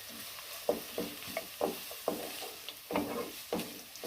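Chopped onion and ginger hitting a hot pan for semiya upma, giving a soft sizzle broken by a series of rhythmic scraping stirs, about one every half second, close and fairly quiet with no voices.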